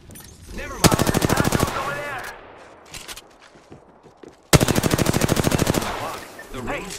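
Two loud, fast automatic bursts in Apex Legends, each a rattling string of evenly spaced shots lasting about a second, separated by quieter scattered clatter and faint movement.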